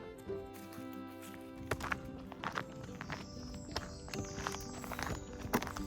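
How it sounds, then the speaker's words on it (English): Irregular rustling and scrabbling steps move through dry undergrowth nearby, coming in quick uneven bursts over a faint steady hum. "I can hear something scrambling about in there. Oh, it's a hare."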